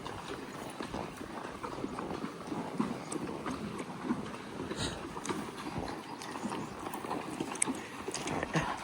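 A horse's hooves clop in a steady, uneven walking rhythm while crossing a Missouri river on horseback, moderately close, with soft scuffs and splashy background noise around them.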